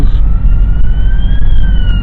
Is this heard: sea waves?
no